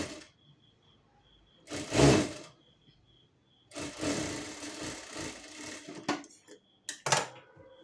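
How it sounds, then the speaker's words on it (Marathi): Sewing machine stitching a fabric strip, joining lining to main cloth with a half-inch seam: short bursts of rapid mechanical whirring with pauses between, the longest run lasting about two seconds, close and fairly quiet, with no talking. "आता 1/2 इंच अंतर घेऊन मी टीप मारून घेतलेली आहे"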